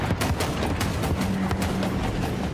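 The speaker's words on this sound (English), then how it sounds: "The only time I can recall being underwhelmed at how a unit sounded was with the Ogre Leadbelchers." Ogre Leadbelchers cannon fire in Total War: Warhammer 3 rattles out as a rapid string of loud, close blasts, shot after shot in a steady volley.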